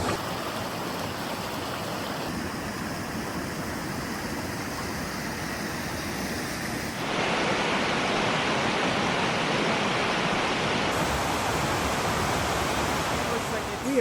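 A waterfall on a backcountry trail in the Lost River Range gives a steady, loud, broadband rush that continues without a break and grows slightly louder partway through.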